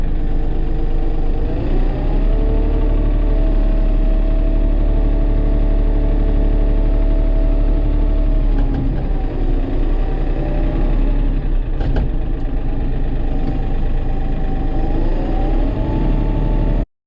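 A Bobcat skid steer's engine runs steadily and loud for the whole stretch, a constant droning idle with slight shifts in pitch, close by and without talk, cutting off abruptly at the end.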